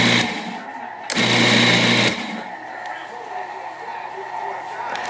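Food processor pulsing spinach pasta dough in two short bursts of motor whir, close and loud, with a person talking around it.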